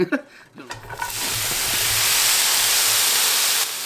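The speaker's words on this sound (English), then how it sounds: "I just started dinner by sauteing some onions, some mushrooms, and some vegan sausage" Onions, mushrooms and Field Roast vegan sausage sautéing in a pan: a few clinks and stirs at first, then a loud, steady sizzle that holds for several seconds before abruptly dropping away.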